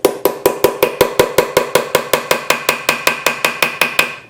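A tool repeatedly strikes a part during restoration of a Brownwall hit-and-miss engine. About twenty close, crisp metallic taps come at a fast, even pace, with no one speaking.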